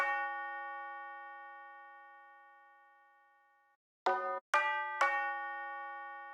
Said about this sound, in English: Big on the tubular bells.